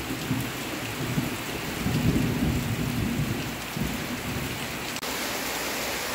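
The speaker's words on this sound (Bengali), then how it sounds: "এইভাবে অনবরত মেঘ ডেকে যাচ্ছে।" Steady rain with continuous low thunder rumbling during a monsoon-season storm at home, a dense wash of rainfall noise layered over deep rolling rumbles, with no voices.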